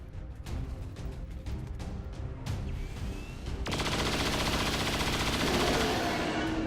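In XCOM 2, a string of sharp weapon bursts crackles at the start, then a loud, sustained roaring blast of a beam cannon shot fills the rest, with no talking.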